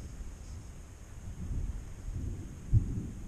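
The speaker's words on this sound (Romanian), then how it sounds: "se aude cum tună" Thunder from an approaching storm front rolls as a faint, low rumble, swelling softly a couple of times with a brief thump near the end.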